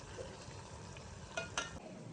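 Valor beans and eggplant sizzle in a pan, a soft steady frying hiss with a couple of brief stirring scrapes near the end, heard alone.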